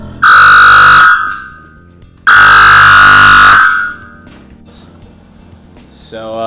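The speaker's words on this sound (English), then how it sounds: "We set off the fire alarm." A dorm fire alarm set off by smoke from cooking sausage and greens blares in two long, very loud, piercing bursts separated by a short pause, then quiet shuffling.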